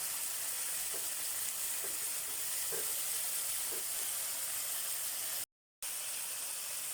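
Soy sauce hitting sautéed tomatoes in a hot pan for adobong saluyot, a steady soft sizzle and hiss with faint stirring clicks, followed by a brief gap of silence.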